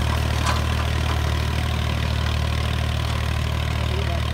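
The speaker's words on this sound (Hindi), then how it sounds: "ट्रैक्टर मस्ती में खेच रहा है, एकदम मस्त, एक बार में ही भान मचा रही है पूरा" A Massey Ferguson 35 tractor engine, an old IMT model, drags a harrow through field soil with a loud, steady low rumble and no pauses across the span.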